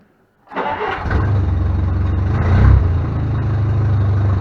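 A 1956 Jeep engine cranks briefly after a moment of silence, catches on the push-button start with a little choke, and settles into a steady, loud rumbling idle with a slight rev partway through.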